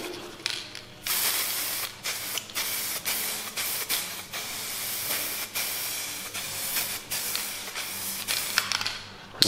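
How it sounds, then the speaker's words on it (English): Matte black guide coat paint sprays onto car bodywork in a series of close, steady hissing bursts with brief pauses between passes, and no voices are heard. "What we're going to do is put a sprinkle of matte black on there"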